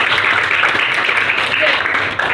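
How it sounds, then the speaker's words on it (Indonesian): Classroom applause for a fellow student during a teaching performance test, a steady wash of clapping that stays loud and even throughout, with voices mixed in underneath. "berikan tepuk tangan kepada teman"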